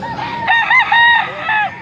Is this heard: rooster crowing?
yes